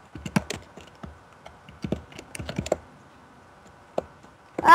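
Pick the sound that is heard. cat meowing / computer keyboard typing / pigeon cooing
computer keyboard typing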